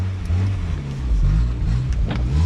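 A $100 Mazda Miata rolling under its own power for the first time, a close, rough low engine rumble that rises and falls briefly as it pulls away.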